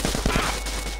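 A quick burst of gunfire rattles in the video game GTA San Andreas, several sharp shots in fast succession lasting about a second, close and fairly loud.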